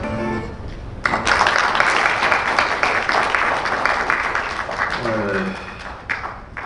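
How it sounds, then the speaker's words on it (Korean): Audience applause at a Korean policy forum greeting a special lecture speaker; a voice talks briefly before loud clapping breaks out, holds for several seconds, then fades as speech resumes. "박수로 맞아주십시오."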